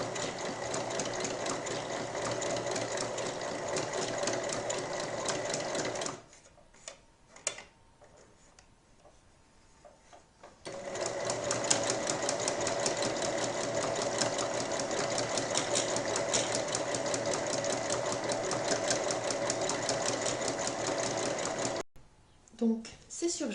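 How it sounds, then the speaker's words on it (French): A sewing machine overlocks the seams of fabric strips for a cushion cover, a steady fast whirring chatter running long, stopping briefly, then resuming, close and even in loudness. "il faut d'abord venir surjeter toutes les coutures"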